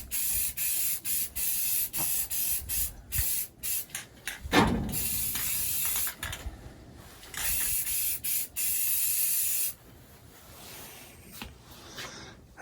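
Spray paint applied to a part of a 1953 Chevy truck: loud, close bursts of hissing spray in repeated pulses, ending with one long sustained blast before a quieter tail.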